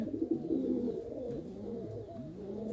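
A pigeon feeds its large, heavy chick, giving a steady run of soft, low cooing and throaty murmurs close by with no talk.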